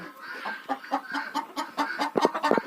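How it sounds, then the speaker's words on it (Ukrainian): Hens clucking inside an unheated chicken coop, a run of close, soft repeated clucks that grows louder and busier toward the end. "там курочка сидить. Це вже несеться, чекають по черзі."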